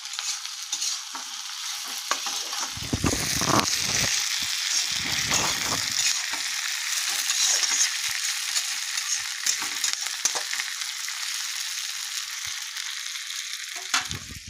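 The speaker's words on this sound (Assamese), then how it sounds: "আলু সিজি গ'ল এয়া ধুনীয়াকৈ ফ্ৰাই হৈ গ'ল এতিয়া কেপচিকাম আৰু বিলাহীটো দি দিছোঁ অলপ সময় এনেকৈ ভাজিম" Potato, capsicum and tomato fry in hot oil in a pan, giving a steady, close sizzle with repeated scraping stirs and no talking.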